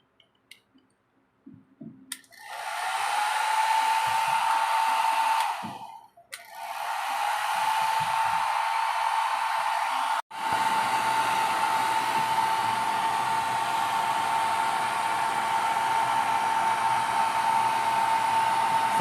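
A hair dryer blows steadily on a waterlogged engine that had been submerged, its loud whine cutting out briefly twice before running on continuously, close and alone.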